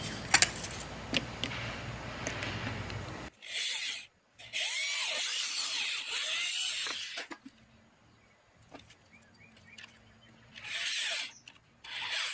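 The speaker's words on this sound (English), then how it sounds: "I'm just going to hit this soft wood real quick, a little bit, with the bit" A power drill bores into softwood scrap plywood in several separate bursts, each a loud whirring grind of a few seconds with quiet pauses between, close up.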